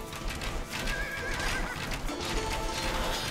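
Horses whinny and neigh in Age of Empires 2, several calls over a busy game soundscape with clip-clopping hooves, continuous and fairly loud throughout.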